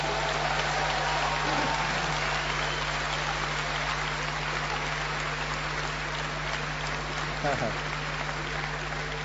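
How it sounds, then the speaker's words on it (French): Crowd in a church healing service applauding in praise, a continuous rain-like rush of many hands that stays steady throughout, with a low sustained hum of music and faint voices beneath. "Alors, louons le Seigneur et applaudissons maintenant pour ces guérisons."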